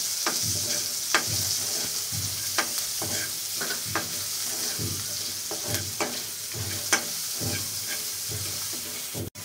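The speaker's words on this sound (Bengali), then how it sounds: "পেঁয়াজগুলো ভাজা ভাজা করে নেব ভালো করে।" Chopped onions and a split dried chilli fry in the oil left from frying eggs for an egg curry, a loud close sizzle broken by regular scraping stirs of a spatula against the pan.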